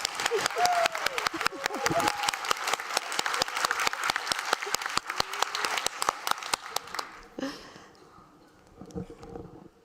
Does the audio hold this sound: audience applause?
yes